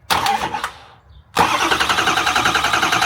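A Ford PowerStroke diesel engine being cranked over by its starter, with a short burst, a brief pause, then a loud, steady rhythmic cranking churn close by.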